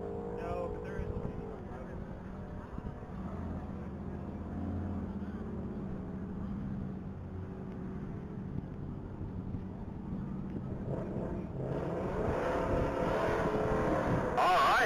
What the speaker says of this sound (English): that Corvette went to the quarter mile at a 121 and a half at a 147